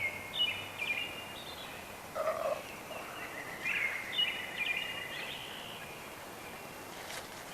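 A wild turkey tom gobbles in early-season spring woods in Michigan, with several rapid rattling gobble bursts in a row, moderately distant over a steady outdoor background.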